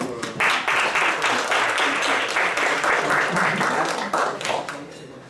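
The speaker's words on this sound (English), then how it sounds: "One round of applause, please" Warm burst of applause from breakfast guests in Las Vegas, many hands clapping close and loud with distinct individual claps, tapering off toward the end.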